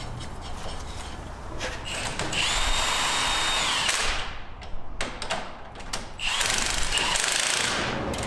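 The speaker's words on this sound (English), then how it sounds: "It took Aaron just a few minutes to slightly enlarge these holes to accommodate the new U-bolts." A power tool enlarges U-bolt holes in a steel plate during a lift install on a Nissan Frontier, grinding loudly in bursts with brief pauses and clanks between, close by with no talking.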